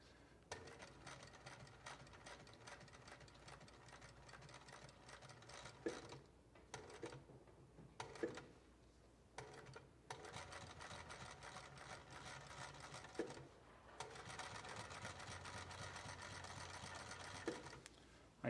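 A sewing machine stitches shoe material in a footwear workshop at its top speed, a fast steady mechanical whir running in long bursts with brief pauses between runs.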